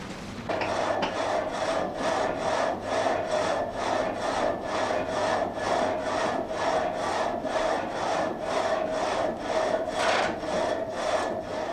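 A water-powered sawmill cuts wooden boards, its blade rasping in a fast, even back-and-forth rhythm of regular strokes over a steady mechanical hum, loud and close with no talking.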